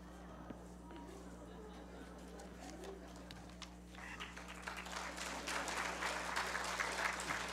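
Congregation applause at a Shabbat service swells gradually from a quiet start into steady, dense clapping, with faint chirping and a low hum in the background.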